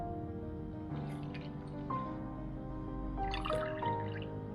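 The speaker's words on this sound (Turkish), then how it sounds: "şimdi her bir yarım ayva için yarım çay bardağından şöyle birazcık fazla su ekleyeceğim" Water poured into a pot of halved quinces, soft splashing and dribbling trickles in short bursts, fairly faint and close, with a few gentle clinks.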